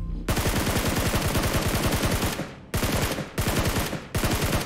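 Rapid automatic gunfire in a shooter video game, loud and close, with long continuous bursts separated by a few very brief pauses.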